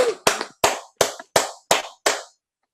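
Seven sharp, evenly spaced hand claps in a steady rhythm, loud and close, from an audience welcoming a musical act, ending in silence.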